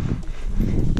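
Horse hooves thud and clop on the ground in a quick, close burst during vaquejada training, with a low rumble underneath.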